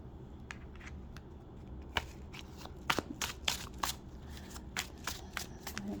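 Tarot cards being shuffled by hand, a run of crisp riffling snaps and slaps, sparse at first and then coming in quick clusters, close and fairly quiet over a low background hum.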